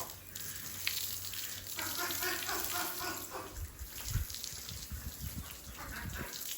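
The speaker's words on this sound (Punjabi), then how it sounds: "ਸ਼ਾਵਰ ਸਿਸਟਮ ਵਾਲਾ ਹਿਸਾਬ ਹੀ ਲਾਉਂਦੇ ਥੋੜਾ ਥੋੜਾ ਪਾਣੀ ਪਾ ਕੇ।" Water sprinkles steadily like a shower over animals to cool them in summer heat, a continuous hissing spray with soft splashing that runs throughout at moderate loudness.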